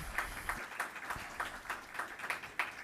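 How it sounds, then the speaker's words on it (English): A modest audience claps for the organizers and sponsors at an Indigenous ceremony and opening remarks, scattered, fairly light applause with distinct individual claps at a brisk, uneven rhythm. "Big round of applause for our organizers and sponsors"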